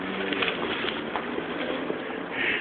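A pigeon coos nearby in a few soft, low, throaty bursts, with a slightly louder coo near the end and faint background noise.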